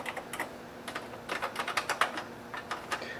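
An Atari 800 home computer's fully mechanical keyboard being typed on: uneven bursts of crisp, close keystrokes with short gaps, quiet and with no speech.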